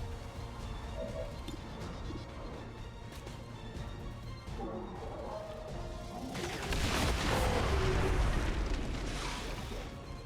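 A chain of explosions in the XCOM 2 video game, a rumbling low backdrop that swells into a louder, broad roaring blast cluster near the end, with no talk over it.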